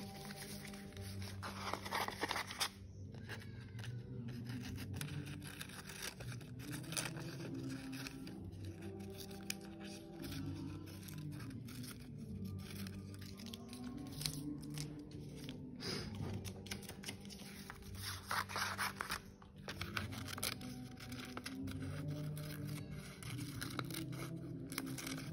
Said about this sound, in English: cutting until I have cut out all my beautiful Christmas decorations like this